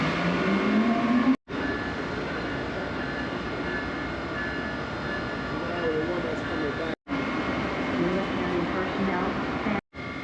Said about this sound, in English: Our P42DC locomotives are now leaving the train.